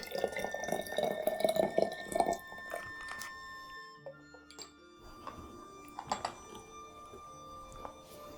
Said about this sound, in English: Pour in enough water to fill around 4/5